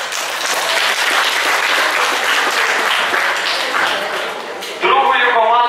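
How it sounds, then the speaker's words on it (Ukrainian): A school KVN comedy-contest audience breaks into sustained, dense applause filling the hall, and it ends as a speaker begins talking over the fading claps. "Оплески."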